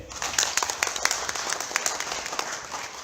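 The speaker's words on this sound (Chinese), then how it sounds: "多谢各位的掌声。" Applause from a church audience after a performance by a blind choir, a steady patter of many hands clapping at moderate distance, fairly even for a few seconds.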